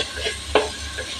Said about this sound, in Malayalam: അങ്ങനെ നല്ലപോലെ ഇളക്കി കൊടുക്കുക.